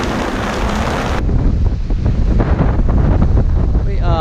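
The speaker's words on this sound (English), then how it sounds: "20 knots, wind, big seas." Strong wind and big seas buffet a Hallberg-Rassy 54 sailing yacht bouncing along toward Antigua in 20 knots of breeze, with a loud, steady roar of wind on the microphone and rushing water close by.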